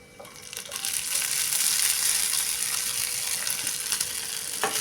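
Soaked sago pearls are sautéed in a pan with fried dry fruits for sabudana kheer, a steady close sizzle with soft stirring scrapes and occasional crackles.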